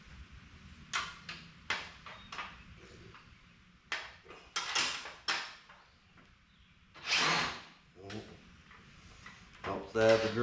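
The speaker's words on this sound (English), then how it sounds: "Helps to have the drill going the right way." A handheld power drill whirs in short bursts while a door valance is fitted to a 2021 Polaris RZR Pro XP, with scattered clunks and handling noises between the runs.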